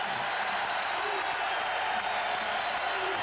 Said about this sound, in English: And the crowd trying to help the Cyclones here